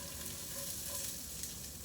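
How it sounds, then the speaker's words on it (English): Sliced red onion fries in olive oil in a skillet, making a steady, dense sizzle that continues without break at a fairly low level. "I'm going to add my onion,"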